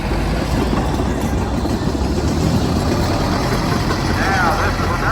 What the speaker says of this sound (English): Challenger 65 rubber track did go over good, and the Ag 6 was withdrawn from the product line. This was not a production tractor.